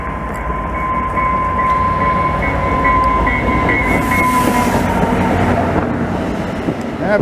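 A Montreal commuter train passes close by, a loud continuous rumble of rolling wheels with a sustained squealing tone, buffeted by wind noise on the microphone.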